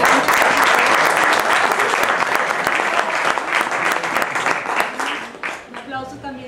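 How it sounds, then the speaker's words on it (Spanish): Applause from a concert audience at an educational performance for the host, a dense sustained wave that is loud at first, then thins out and fades near the end as a voice begins to speak. "un aplauso muy grande"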